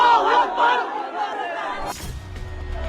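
A large mob on a street in Hazari Lane, Chittagong, at night, chanting slogans and shouting in unison: loud, rough massed voices rising and falling, then breaking into scattered crowd noise and clamour.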